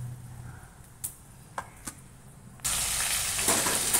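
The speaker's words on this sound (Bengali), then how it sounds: "পাঁচফোড়ন দিয়েছি, ফোড়নে ভাজা ভাজা হয়ে গেছে" Vegetables hit hot oil tempered with panch phoron in a pan for khichuri, a few sharp clinks first, then a sudden loud, steady sizzle up close.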